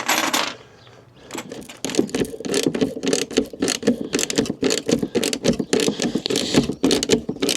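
Close-up metallic clicking and ratcheting as three nuts with washers are tightened on the inside to secure a snorkel on a Land Rover Defender Td5, a rapid irregular run of sharp clicks that follows a brief quieter pause.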